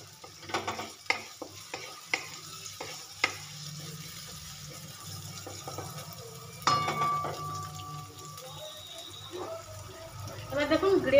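Onion lightly frying in a pan for a bitter gourd dolma dish, a soft sizzle with several distinct stirring knocks and scrapes early on, then a steadier frying hiss.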